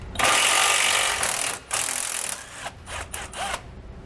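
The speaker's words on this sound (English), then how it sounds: "Grab a 15mm socket, and we'll pull that bolt out." A power tool, likely an impact wrench, spins a 15mm socket to remove a bolt running through an RV frame while fitting a rear anti-sway bar; a loud, close burst with a short break and several brief follow-up pulses.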